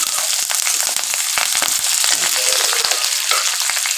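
Whole garlic cloves and curry leaves crackle and spit loudly in hot oil for Hyderabadi khatta dal, a dense, continuous sizzle peppered with sharp pops throughout, with no talking.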